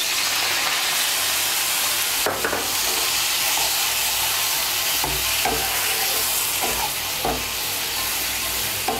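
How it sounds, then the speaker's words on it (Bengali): Water is added to a hot pan of taro and potato curry with fried spice paste, setting off a steady close-up sizzle and hiss broken by occasional stirring scrapes and clinks, with no talking. "এখন এর মধ্যে আমি সামান্য একটু জল দিয়ে দেব।"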